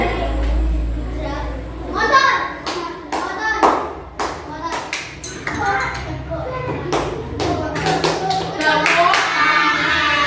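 Schoolchildren in a fourth-grade class clap their hands in uneven bursts, with scattered sharp claps and some children's voices mixed in.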